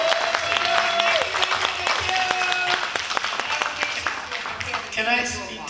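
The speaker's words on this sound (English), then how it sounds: "Can we give Mr. Dill a round of applause?" An audience at a leaders roundtable panel gives a round of applause for Mr. Dill, steady clapping spread through the room for several seconds with voices talking over it, thinning toward the end.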